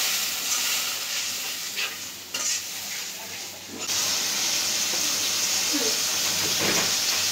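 Water splashed into a pan of fried onions sets off a loud, steady hiss and sizzle that eases briefly, then surges back strong and continuous for the rest of the stretch.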